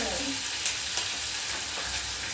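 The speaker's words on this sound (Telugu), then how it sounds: "పచ్చిమిర్చి అల్లం కరివేపాకు ఉల్లిపాయలు వేసుకుని వేయించుకుందాం" Onions, green chillies, ginger and curry leaves sizzle steadily in hot oil, a loud close frying hiss with faint stirring scrapes throughout.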